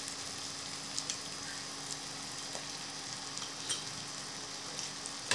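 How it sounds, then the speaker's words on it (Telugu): Schezwan Guntur-style masala fried rice mixture fries in a pan with a quiet, steady hiss, broken by a few faint clicks and ticks from the ingredients or the spoon, with no voices. "అంతా కూడా బాగా మిక్స్ చేసేసి ఒక 5 or 6 మినిట్స్ బాగా ఫ్రై అవ్వాలండి."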